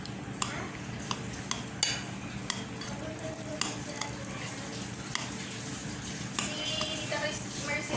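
Butter, sugar and graham crumbs for a no-bake mango cheesecake crust stirred in a bowl, with repeated sharp utensil clinks and scrapes over a low background murmur.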